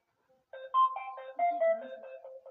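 A phone sounds a short melodic ringtone-style alert, a few clean tones rising and falling, heard alone against near silence.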